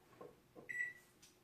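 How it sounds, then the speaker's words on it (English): A kitchen timer gets set with a couple of soft button presses, then gives a short, clear electronic beep and a faint final click, quiet in a still kitchen. "I need to set my timer"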